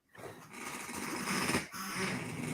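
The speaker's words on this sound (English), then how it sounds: "My dog snores." A dog snores steadily nearby, rough rasping breaths rising and falling with a brief pause midway.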